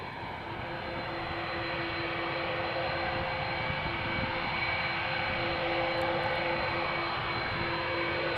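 Aircraft engines rumble and whine at Amsterdam Schiphol Airport, a loud steady drone with a sustained tonal whine, continuous and close.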